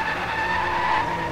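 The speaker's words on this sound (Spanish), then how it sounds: "Aunque no crean, estoy derrapando." Continuous tire squeal from a car drifting and skidding in the racing video game Driveclub on a wet, rainy track, a steady high-pitched screech with engine noise underneath, heard alone without talk.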